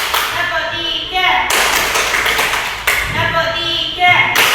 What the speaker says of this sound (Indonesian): Tepuk 1, tepuk 1, tepuk 2, tepuk 3,